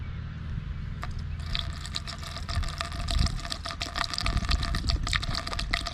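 Water splashes and gurgles as it pours into a funnel during a 2007 Kawasaki ZX-10R coolant flush, a steady trickling over the low hum of the motorcycle engine running nearby.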